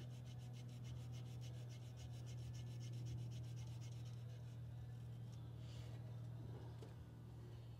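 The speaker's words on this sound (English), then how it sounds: "now I got them in between the contacts. Just filing back and forth." A file scrapes rapidly back and forth across the contact points of a Delco-style distributor on an International Scout 80, giving a faint, rhythmic rasping over a steady low hum.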